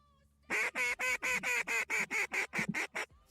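Teal ducks at dawn, a loud nearby series of about eleven raspy quacks in a fast steady rhythm, with no talk over them.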